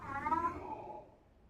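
A cat lets out a single fairly quiet meow that rises and then fades away, heard alone without talk.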